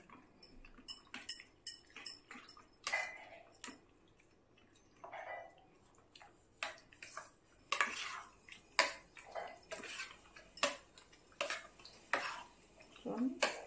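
Repeated scraping and clinking of a utensil stirring an apollo fish dish in a pan, irregular strokes close by, fairly quiet.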